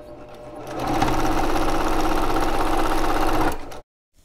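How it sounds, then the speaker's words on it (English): A sewing machine stitches quilt fabric pieces with a quarter-inch seam for a Christmas bow block. The motor hums in a fast, even rhythm at close range for about three seconds, then stops abruptly. "Right sides together, line them up, stitch with a quarter inch seam"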